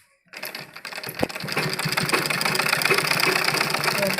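A sewing machine stitches the side seam of a men's kurta, starting after a moment of silence, giving a single sharp click, then running in a steady, close mechanical whir.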